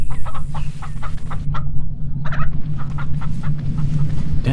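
Chickens clucking in the 35MM video game: a close, loud run of short repeated clucks and squawks over a low steady hum, the calls coming in quick bursts with brief gaps.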